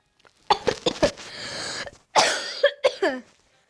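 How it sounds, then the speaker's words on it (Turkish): Several harsh coughs in quick bursts, loud and close, with a raspy, breathy stretch between fits. "Çok pis öksürüyorum ya."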